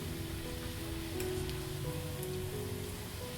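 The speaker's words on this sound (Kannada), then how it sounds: "ಇವಾಗ ಎಣ್ಣೆ ಕಾದಿದೆ. ಇವಾಗ ನಿಧಾನಕ್ಕೆ ಹಾಕೋಣ." Radish fritters frying in hot oil on a medium flame, a steady dense sizzle and crackle like rain, continuous and close throughout with no voices.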